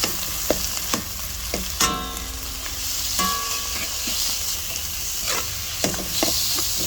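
Ground pork sizzling with tomatoes in a hot pan, a loud constant frying hiss with sharp clacks and scrapes from a spatula stirring the mixture, close up and free of talk.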